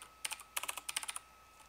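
Quick bursts of computer keyboard typing, a dozen or so crisp close keystrokes in two short runs, then near silence.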